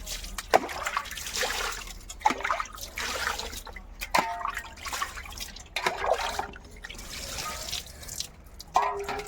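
Water poured over a person's body on a very hot day, splashing and dripping in uneven bursts with quieter trickling between pours, close and moderately loud, with no talking.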